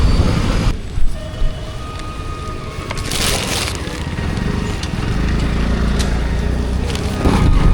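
Rain falls during a parcel delivery ride through traffic, a steady rushing hiss mixed with road and engine noise and a few brief thumps near the start.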